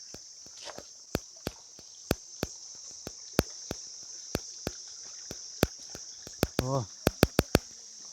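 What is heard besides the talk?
insects chirping in the forest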